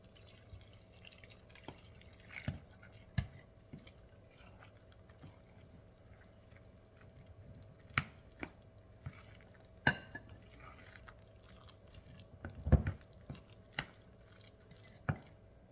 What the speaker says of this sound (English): Now I'm going to add my water and get it to the consistency that I want it.